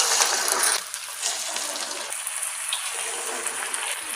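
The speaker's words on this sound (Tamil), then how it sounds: "நல்லா எண்ணெய் காஞ்ச உடனே இந்த மாதிரி சின்ன சின்னதாக போடுவேன்." Small pieces of mushroom pakoda dough dropped into hot oil for roadside-style kalaan, a loud, close, continuous bubbling sizzle that briefly dips then settles into a steady hiss.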